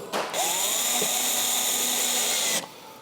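A power drill whirs in one steady burst of about two seconds, driving a screw through checker plate for a snow cowl, close and loud with a brief start and stop.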